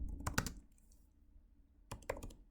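Keys on a computer keyboard clack in two short bursts separated by a quiet pause, close and fairly soft, with no voices.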